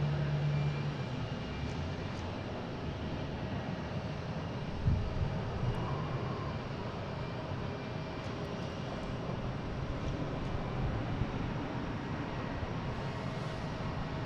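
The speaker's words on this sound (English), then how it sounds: "we got Air Portugal taking off, heading to Lisbon, an A321neo" Air Portugal A321neo airliner taking off at Boston Logan, a broad steady engine roar that holds loud and constant throughout, with no talk over it.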